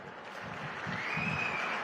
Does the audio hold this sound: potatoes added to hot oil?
no